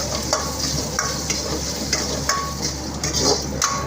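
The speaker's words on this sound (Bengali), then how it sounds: "তরকাতে ঘি দিচ্ছে পাপাই শুকনো লঙ্কা কারি পাতা শুকনো লঙ্কা কারি পাতা একটু রসুন কিমা" Dried chili, curry leaves and minced garlic frying in ghee for a tadka, a loud, close sizzle with repeated spatula scrapes and taps against the pan over a low steady hum.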